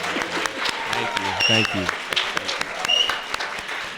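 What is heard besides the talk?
applause for musicians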